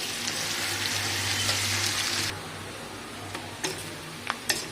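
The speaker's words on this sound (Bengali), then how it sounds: "তো এই তেলে আমি পেঁয়াজ দিয়ে দিচ্ছি" Onions dropped into leftover hot oil from fried chicken in a home kitchen, a loud bright sizzle for about two seconds that drops to a softer steady fizz with a few clinks of stirring.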